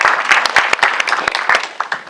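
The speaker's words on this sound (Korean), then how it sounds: "박수 한 번." Brief burst of audience applause, many hands clapping close by in a quick, uneven patter.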